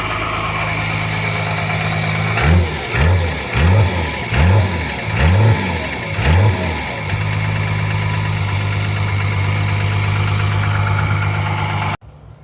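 Long-abandoned 12-valve Cummins diesel with a sticky injection pump runs at a steady idle, then is revved in a string of five quick throttle blips before settling back to a loud, even idle and cutting off abruptly.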